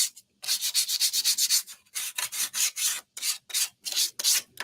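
Sanding with 320-grit sandpaper on a painted wooden snowman craft: close, rhythmic back-and-forth scratchy strokes in quick bursts with brief pauses, alone without talk.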